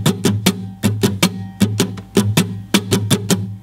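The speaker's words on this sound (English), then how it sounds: "It sounds like this on muted strings." Muted guitar strings strummed in a steady, repeating down-and-up pattern, giving crisp percussive chucks in a regular rhythm with a few stronger accented strokes, close and alone.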